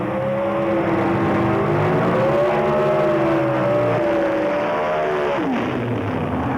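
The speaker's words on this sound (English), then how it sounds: "a good strong burnout from the car" Holden Calais drag car doing a burnout at a drag racing event, its engine roaring loud and sustained with wavering pitch as the tyres spin, continuous for several seconds.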